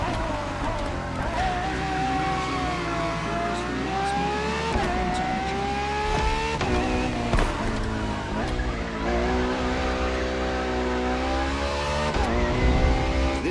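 A Ferrari FXX K supercar screams through a lap in the racing game The Crew Motorfest, its engine revving high and steady with rising and falling pitch through gear changes, loud and continuous throughout.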